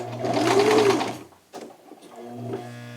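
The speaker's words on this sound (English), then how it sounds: "I always start off with the double stitch." A sewing machine runs a double stitch along the side seam of a shirt being taken in to a slim fit. It gives a loud, fast mechanical whir, a brief pause, then a shorter second burst of stitching.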